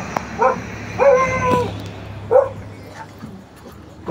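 Two pet dogs barking indoors at a home, a few sharp yips and barks in short bursts with pauses between, moderately close, with faint background noise.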